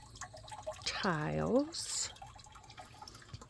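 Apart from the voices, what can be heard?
water trickling in a garden water fountain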